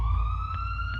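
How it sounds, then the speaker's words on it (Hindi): An emergency siren, from an ambulance or fire engine, sounds as a steady high wail, loud and close, with no voices over it. "दोनों पहुंचे डेविस के घर, जहां पर एम्बुलेंस और फायर ब्रिगेड की गाड़ियां खड़ी थी"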